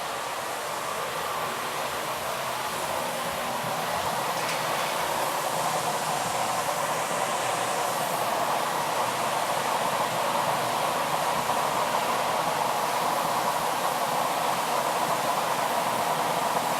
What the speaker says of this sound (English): The glory holes are a mixture of propane and air fanned in from outside.